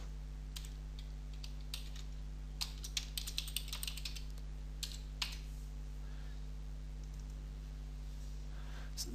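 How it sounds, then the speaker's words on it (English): Typing on a computer keyboard while entering numbers into an Excel spreadsheet, with scattered sharp key clicks in short bursts over a steady low electrical hum, fairly close and quiet, no talking. "And I'm going to type 1 and 2."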